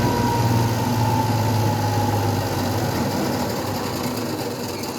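A zero emissions generator runs with a steady, close mechanical hum and a faint tonal whine. The level stays even and fades slightly toward the end, with no talking.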